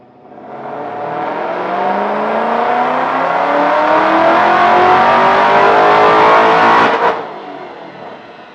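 A supercharged 2008 Shelby GT500 Mustang engine with a VMP Gen3 TVS supercharger roars steadily on a dyno for several seconds, climbing in pitch as it revs hard, then cuts off abruptly and winds down.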